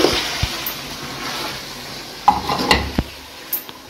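A spoon stirring a mix of turmeric, black pepper powder, chili and dried fenugreek leaves in a pot, with a low sizzle and a few sharp metallic clinks and scrapes against the pot.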